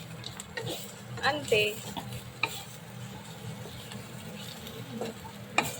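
Raw banana pakoda fry is mixed with coriander in a pan, with scattered spoon scrapes and clinks over a soft sizzle, and a brief spoken word.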